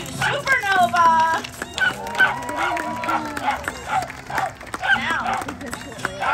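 Sharp, high yips from a small trick dog ring out repeatedly over a cheering crowd and excited voices, loud and close, at a live dog show.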